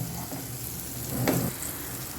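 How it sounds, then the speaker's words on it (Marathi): Drumsticks frying in a pan, a soft steady sizzle throughout with a brief louder burst midway, heard close and without voices. "अशा प्रकारे आपण सगळ्या शेंगा तळून घेणार आहोत"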